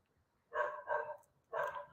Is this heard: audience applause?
no